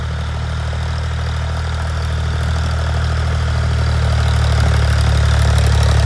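A Ford or Arjun tractor engine idles in a steady, loud, low rumble that holds evenly and swells slightly toward the end, with no voices.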